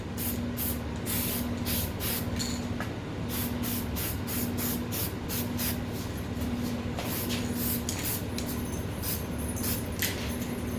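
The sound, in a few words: spraying skin for mummy wraps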